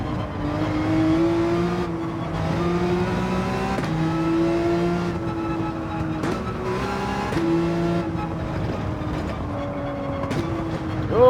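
A Porsche 911 race car in Gran Turismo 7 is driven hard around a track, its engine droning loud and steady with repeated rising and falling pitch as it shifts and revs through corners.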